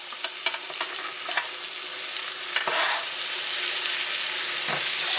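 Steak frying in garlic butter in a pan gives a loud, continuous sizzle and crackle with a few sharp pops and spatters, swelling slightly louder partway through, with no voices.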